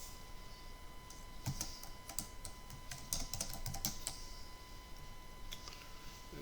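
Computer keyboard typing a field name, a quick burst of close, crisp keystrokes in an irregular rhythm, then falling quiet, with no voice over it.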